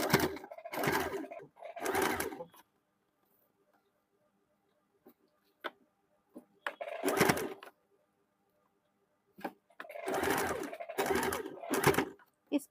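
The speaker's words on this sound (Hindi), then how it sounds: "अभी पाइपिंग डोरी को इस प्रकार से ऊपर रख के पूरे में गोल्डन धागा से सिलाई डाल देंगे।" A sewing machine stitches piping cord with golden thread in loud, rapid bursts of whirring needle chatter, several runs separated by pauses with light clicks and handling noises.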